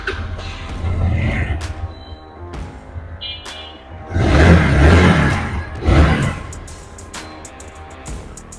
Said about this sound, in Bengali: একটু স্টার্ট দিয়ে দেখাই।